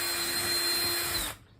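A power drill bores holes through plywood for stitch-and-glue boatbuilding, a loud, steady whining buzz held for over a second before it spins down and cuts off; no speech.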